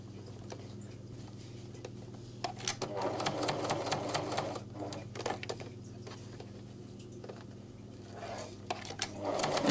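A sewing machine stitches felt fabric in short bursts of rapid mechanical clatter, stopping and restarting as the material is turned, over a steady low motor hum at close range.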